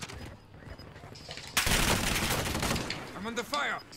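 Gunfire in an online shooter game, a burst of rapid shots breaking in loud after a quieter stretch of game sound, with a player's voice talking over and around it.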